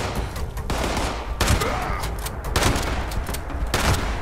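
Gunfire from a firefight in the video game Fallout 76: a steady, dense barrage of shots with several louder bursts standing out, loud and close throughout.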